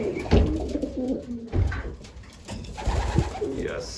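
Racing pigeons coo repeatedly in a loft, soft throaty calls overlapping close by with fluttering and shuffling around them.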